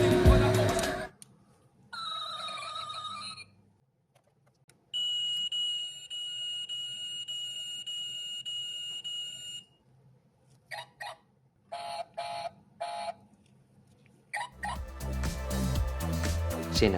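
Electronic toy sound effects from a toy Nissan Skyline GT-R car, triggered by pressing the suspension down: a run of bright synthetic beeping tones and warbling chirps in bursts, separated by short pauses, fairly loud and close.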